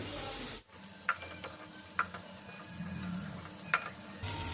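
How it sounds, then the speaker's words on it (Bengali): Shrimp fry in a pan for a potato and pointed gourd curry, a soft steady sizzle at moderate distance punctuated by a few sharp clicks of utensils against the pan. "চিংড়ি ভাজা হয়ে গেল"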